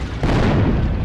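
Explosions in the video game Heroes & Generals: a dense, loud wall of booming blasts and rumble that swells after a brief lull and stays sustained, with no talking.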